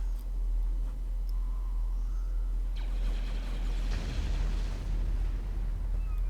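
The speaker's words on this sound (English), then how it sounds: "Initiate bombing run." Explosions from a bombing run in the Star Wars strategy game Empire at War, heard as a loud rumbling barrage of blasts over a constant low drone, building up in the second half of the clip.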